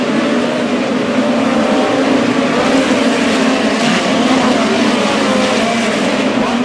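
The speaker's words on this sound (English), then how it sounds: "Tucker Crossmeyer, one lap away from victory here at Lake Ozark Speedway" Midget race cars roar around the dirt oval at Lake Ozark Speedway during a POWRi Lucas Oil National Midget League race, a loud continuous engine drone with shifting pitch as the pack runs past.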